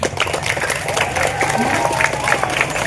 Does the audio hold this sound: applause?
yes